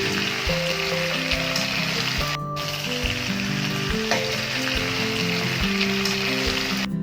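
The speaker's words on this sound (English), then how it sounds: "Fry well." Doddapatre (Indian mint) leaves fry in a pan with a steady, close sizzle that runs unbroken throughout, over soft background music.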